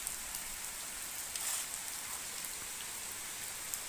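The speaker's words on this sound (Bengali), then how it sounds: "খালি বৃষ্টি, সব দিকে বৃষ্টি পড়তেছে" Continuous rainfall everywhere near a school, a constant close hiss of drops hitting surfaces with small scattered spatters, nothing else audible.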